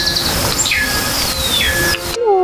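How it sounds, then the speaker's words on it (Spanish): Birdsong in a small Mexican town, with high whistled chirps and sliding notes ringing close and clear over a busy outdoor background that cuts off abruptly near the end. "tengo que escuchar las aves de su canto muy bonito"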